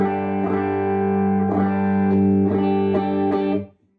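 Electric guitar lead tone through an amp, sustained distorted notes with a few picked changes, loud and alone, ringing for about three and a half seconds before cutting off.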